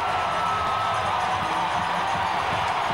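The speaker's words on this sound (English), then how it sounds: "The crowd have gone mad here." Cricket crowd at a 1998 West Indies v England one-day international in St. Vincent roaring steadily after a Brian Lara boundary, a dense continuous wash of cheering and shouting with no break across the stretch.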